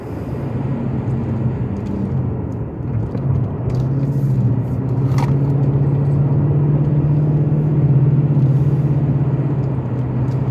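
A Mercedes CL500 driving along country lanes, heard from inside as a steady low engine drone and road rumble that builds slightly in pitch and loudness, with no talking.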